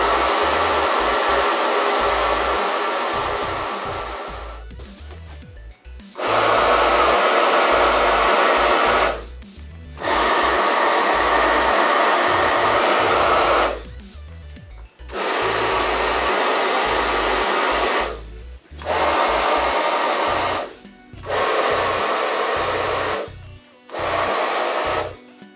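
A hair dryer fitted with a diffuser drying curly, wavy pixie-cut hair blows loud and steady in long bursts, switching off briefly several times and coming back on with the same close, whooshing roar.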